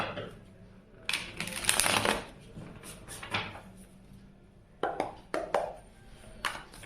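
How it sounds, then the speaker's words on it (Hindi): Tarot cards are shuffled by hand in quiet, close bursts of riffling and flicking, with short pauses between the rounds. "तो चलिए कार्ड शफल करते हैं"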